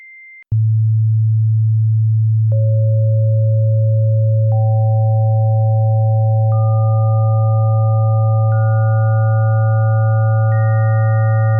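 Generated pure sine tones for a Fourier series demonstration: a steady loud low tone begins, then higher tones are added one by one at regular two-second steps, stacking into a sustained, increasingly rich electronic chord.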